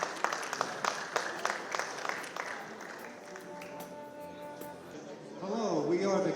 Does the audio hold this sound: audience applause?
yes